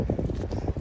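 Horse hooves clip-clop in a quick, steady rhythm, close and fairly loud; a small, calm dark bay mare.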